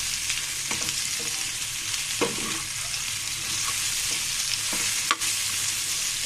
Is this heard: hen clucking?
no